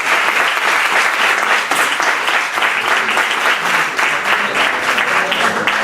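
Sustained applause from an audience at a talk closing a lecture series, dense and loud clapping filling the whole stretch with no voices on top.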